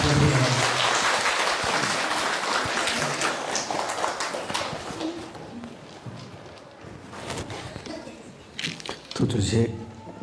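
An audience at a community program claps for the chief guest, dense applause that fills the opening seconds, then thins into scattered claps, and a voice speaks over it toward the end.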